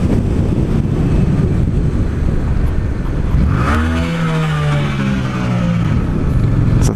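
A 2017 Yamaha Tracer 700 motorcycle rides steadily in fifth gear at about 5000 rpm, giving a loud continuous engine drone under heavy wind roar, with a brief passing tonal sweep midway.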